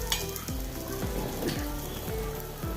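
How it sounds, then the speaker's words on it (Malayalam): Wheat-flour snacks sizzle in ghee on a tawa with a continuous crackling fry, broken by a few regular soft knocks as pieces are set down one by one; no talking. "നമുക്ക് ഓരോന്നായി തവയിൽ വെച്ച് കൊടുക്കാം"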